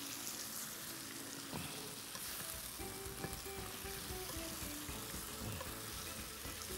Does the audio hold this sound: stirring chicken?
yes